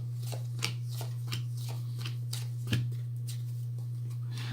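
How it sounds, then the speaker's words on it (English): A deck of oracle cards is shuffled by hand, producing a steady run of soft, rhythmic riffling slaps close by, over a constant low electrical hum. "I'm going to pull 10 cards and see what"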